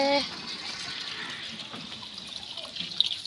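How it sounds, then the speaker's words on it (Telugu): Quiet, steady splash and trickle of water pouring out, with faint drips and a brief voice at the start. "చెట్ల నీళ్ళు పెడుతున్నావే"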